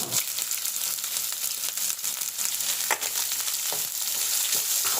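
Onions and curry leaves frying in oil for a drumstick leaf fry, giving a steady close sizzle with faint spoon scrapes, alone without talk.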